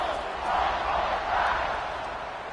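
A stadium crowd at a BYU football game kickoff makes a steady roar that swells briefly twice, broad and distant, with no clear individual voices.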